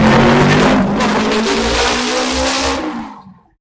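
Motorbike engines revving in busy street traffic, a loud continuous roar with rising and falling throttle that holds steady for about three seconds, then fades out.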